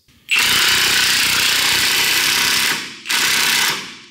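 Impact wrench driving a ball joint press tool on a Ford Ranger during lower ball joint replacement, a loud close rattling hammering burst lasting a few seconds, a short pause, then a second burst.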